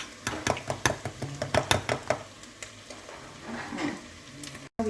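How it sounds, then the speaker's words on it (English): A tablespoon beats thick sadza in a pot on the stove, making a fast series of sharp knocking strikes that slow and fade into softer scraping, close up and with no voices. "you take your tablespoon and you have to start beating it like this"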